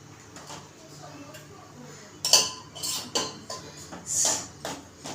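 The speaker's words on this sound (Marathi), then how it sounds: "गॅसवर ठेवते" A pot is set down on a gas stove while puran poli is being cooked, giving a few close metallic clanks and scrapes over quiet kitchen background.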